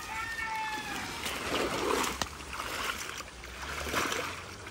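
Freshly caught fish in a net are sloshed and rinsed in water to clear off mud during village fishing, making a continuous close splashing and swishing with a few sharper splashes, and voices talking faintly underneath.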